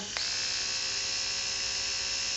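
A small Norelco electric shaver whirs up to a high-pitched, steady buzz in its 9,000 RPM mode and keeps running at full speed, close by with no talking.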